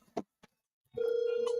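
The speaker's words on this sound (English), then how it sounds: "Whoops, that was my phone. It's attached to the speaker." A phone rings through a connected speaker, a sustained electronic tone that starts abruptly after a few soft knocks and holds steadily to the end.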